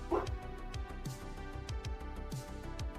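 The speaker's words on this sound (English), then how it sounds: "drove the dogs crazy and they started barking" Several dogs bark and yip in repeated short bursts at moderate distance, set off by a loud diesel vehicle passing on the road outside, with one higher whimpering yelp early on.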